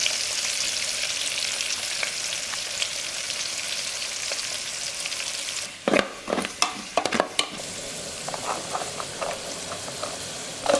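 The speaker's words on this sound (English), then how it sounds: "So I have my oil on fire" Oil heating in a pan with a soft steady sizzle, then louder irregular crackles and spits as it gets hotter, all close up with no talking.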